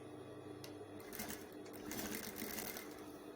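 A sewing machine stitches satin for a multicoloured tutu skirt, making a brief, steady mechanical whir with rapid needle ticking, close and moderately quiet.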